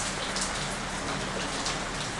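Rain falls outside, a faint, even hiss of drops that stays steady throughout the short stretch, with no voices.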